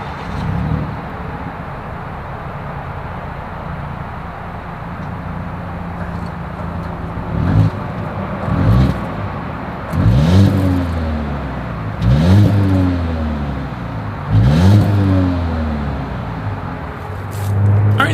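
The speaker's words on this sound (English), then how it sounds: "As always, here is that exhaust clip." A 2022 Volvo XC90 T6 Momentum idles steadily, then its engine is revved four times in evenly spaced bursts that rise and fall, heard close up with no voices.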